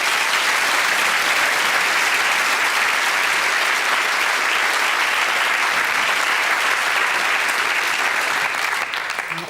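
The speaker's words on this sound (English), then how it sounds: "Let's give him a nice big round of applause." A full house at a psychic's stage show gives a volunteer a loud, dense, sustained round of applause that holds steady for several seconds before tapering off at the end.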